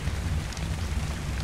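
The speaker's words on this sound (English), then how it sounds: "Of course, it is raining now, and now it is dark" Steady rain in ARK: Survival Evolved, a dense, even hiss of falling drops with a low rumbling undertone, continuous and fairly loud with no voices.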